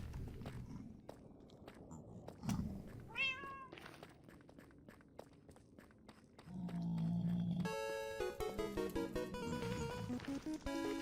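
A cat in Minecraft meows once early on, clear over quiet game ambience and light footsteps. Louder music takes over in the second half.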